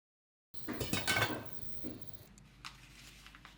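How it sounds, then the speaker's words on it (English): Plum dumplings stirred gently in a pot with a utensil, a few soft clinks and scrapes against the metal early on, then quieter faint shuffling, close and alone. "give them another gentle stir."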